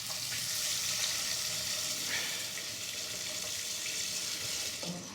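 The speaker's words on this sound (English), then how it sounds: "I'll just put some water in it." Water runs steadily into a pan in a cooking setting, a continuous close splashing gush that holds for several seconds before easing off at the end.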